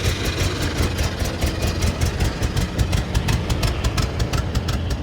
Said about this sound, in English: It's like a flyby, but different.